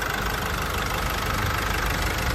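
A Nissan pickup's 2.5-liter turbo diesel engine runs at a steady idle, close and fairly loud, with a constant rough knocking rumble and no voices over it.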